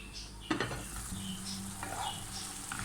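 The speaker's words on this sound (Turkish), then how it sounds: "Domates yumuşayıncaya kadar kapağını kapatıp pişirmeye devam ediyorum" Minced meat and tomatoes cook in a covered pan, giving a steady low sizzle and bubbling, with a brief clink of a lid or utensil near the start.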